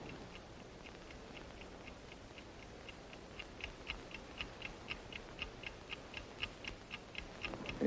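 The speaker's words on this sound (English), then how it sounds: "You hear that ticking? You hear it? That is the signal that the precious metal is near." A Hobart gold finder device gives a quiet, steady, rapid ticking that grows slightly more distinct over several seconds, set against a faint hiss of background noise.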